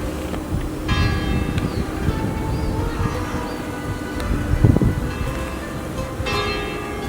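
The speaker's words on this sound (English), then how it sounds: "You can actually hear the church bells in the distance." Church bells toll at a distance over a lush green valley in a Baroque Sicilian town, a few soft, resonant strikes drifting over steady wind and low background murmur.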